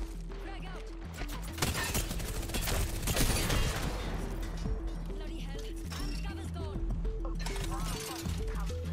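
Rifle fire rattles through a video game battle, with repeated sharp shots and mechanical clatter over a rhythmic looping game soundtrack, moderately loud with brief pauses.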